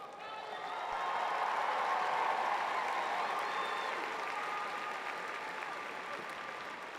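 Sustained applause from a large commencement audience honoring graduates, swelling after the first second and then holding as a dense, even roar of clapping that fades slightly toward the end.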